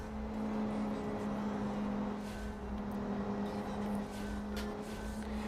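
Engine drone of cars in an oval racing video game, a steady sustained hum with a constant low tone held throughout at moderate level, no talk.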